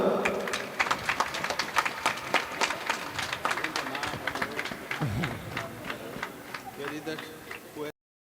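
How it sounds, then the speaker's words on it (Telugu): Audience clapping at a church consecration ceremony in Vijayawada, a sustained round of scattered, close applause with an announcer's voice over it, ending abruptly. "దయచేసి చప్పట్లు కొడదాం."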